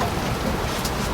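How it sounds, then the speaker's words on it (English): Heavy rain falls in Hong Kong, making a dense, steady, close hiss with no voices. "It's raining like pretty heavy out there."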